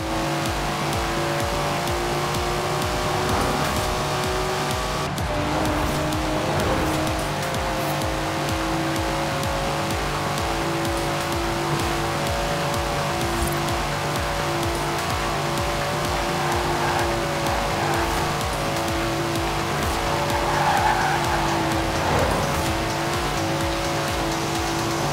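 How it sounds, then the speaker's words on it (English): Datsun car in the Forza Horizon 4 racing game, its engine droning steadily at high revs with shifting pitch and brief tire squeals, loud and continuous throughout. "Never heard a Datsun sound like that, have you?"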